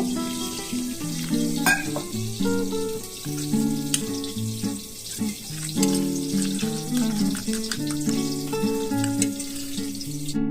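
Pabda fish frying in hot oil in a pan: a continuous sizzle with bursts of spattering and clinking utensil sounds throughout, close and fairly loud.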